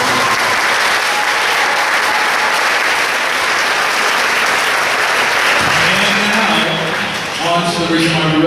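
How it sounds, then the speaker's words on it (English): Sustained, loud audience applause at a 5th-grade graduation ceremony, thick and even for several seconds before tapering off as a speaker's voice begins over its tail. "So if we can give them a round of applause."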